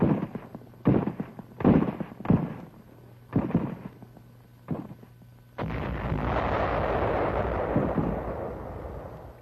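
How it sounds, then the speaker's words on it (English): Naval bombardment by cruisers and destroyers of the 7th Fleet in the Pacific, a run of six or seven heavy booming blasts at irregular intervals, then a sustained roaring rumble of continuous explosions. "The attack follows a bombardment by cruisers and destroyers of the 7th Fleet"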